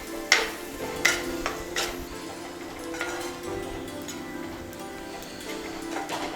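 Onions and masala frying for a beef roast while being stirred, a steady sizzle with several crisp spatula knocks and scrapes early on, then a quieter continuous fry.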